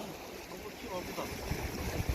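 Strong coastal wind buffets the microphone at Somaemuldo island during a rough-weather rockfish fishing outing, a steady broadband roar with gusts and low thumps, and faint voices underneath.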